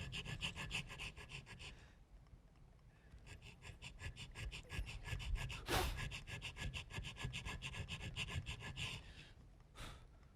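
A checkering tool cut back and forth into a wooden gun stock makes a steady, rapid rasping rhythm of short strokes, close and quiet, broken by a few brief pauses.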